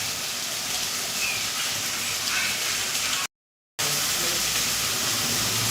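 Food roasting in a pan gives off a loud, continuous sizzling hiss, briefly cut to silence before resuming.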